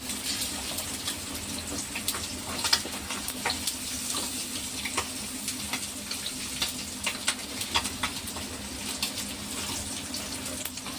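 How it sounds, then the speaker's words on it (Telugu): Fish pieces sizzling in hot oil in a pan for a fish fry biryani, a steady crackling fry with scattered pops, close and moderately loud, with no talk. "ఇలా వేపేసి ముక్కలన్నీ చక్కగా యాగాలండి"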